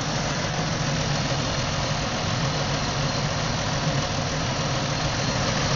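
A car engine idles with one fuel injector disconnected, holding a steady, dense rumble with a faint uneven roughness and no pauses or voices.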